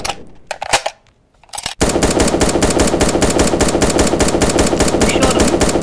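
Rapid automatic gunfire from the video game 1v1.LOL, after a few scattered shots and a brief pause, erupts into a loud, sustained stream of closely spaced shots.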